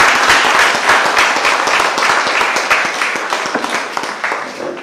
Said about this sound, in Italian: quindi un applauso doppio.